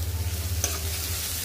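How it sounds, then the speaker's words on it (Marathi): Onions and ginger-garlic paste stirred in a hot pan, with a faint steady sizzle and a few soft rhythmic scrapes of the spoon early on, then a single sharper clink before the frying settles into a quiet hiss. "व्यवस्थित हलवून घ्यायची, व्यवस्थित मिक्स करायची या पद्धतीने।"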